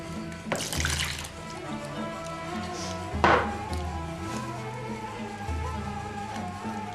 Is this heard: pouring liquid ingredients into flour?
yes